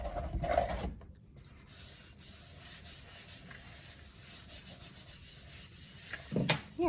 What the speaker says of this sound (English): And now I'm just going to run over this with a roller.